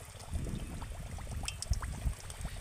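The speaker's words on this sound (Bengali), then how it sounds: "এবার আমি পিঠেগুলোকে তেলের মধ্যে ভেজে নেব।" Semolina pitha frying in hot oil in a wok, a steady, fairly soft bubbling crackle of oil that carries on without a break, with no voices.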